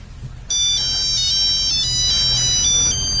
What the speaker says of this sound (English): It's a Scottish ringtone.